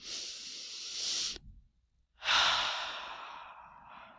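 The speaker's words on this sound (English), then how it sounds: "let's take another deep, slow, collective breath" A deep, slow breath taken close to the microphone: a long airy inhale, a brief pause of silence, then a strong hissing exhale that gradually fades, with no speech.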